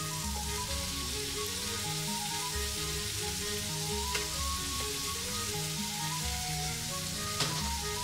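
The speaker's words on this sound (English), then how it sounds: "The onions on top here and get them frying up." Steady sizzling and crackling of sausages and onions frying in a hot pan, close up, with a faint background hum and no talking.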